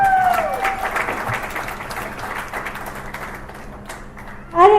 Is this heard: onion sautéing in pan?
no